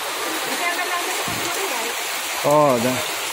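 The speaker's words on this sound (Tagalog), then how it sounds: "Talagang tuloy-tuloy pa rin ang pagbuhos ng malakas na ulan" Heavy typhoon rain pours steadily in a continuous broadband rush in Burdeos, Quezon, with a voice briefly speaking over it near the end.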